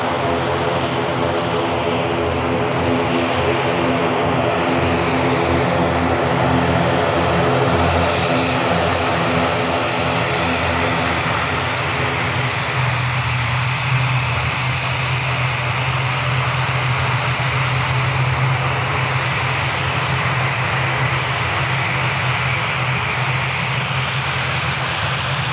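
A Vueling airliner bound for Barcelona takes off from Manchester Airport and climbs out, its loud, sustained jet roar holding steady before the tone shifts lower and broader as the aircraft pulls away.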